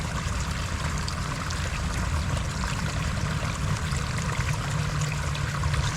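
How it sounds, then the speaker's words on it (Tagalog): Strong, steady rush of flowing water pouring out on a farm during an eggplant harvest, a continuous loud broadband wash with no pauses and no voices. "Medyo, ayan, malakas yung tubig eh."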